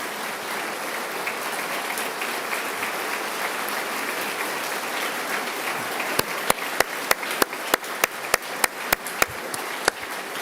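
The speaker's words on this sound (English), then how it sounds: "Let's give them a round of applause." Sustained, loud audience applause fills a legislative chamber during the Ohio governor's 2025 State of the State address, with a run of sharp regular claps or knocks standing out near the end.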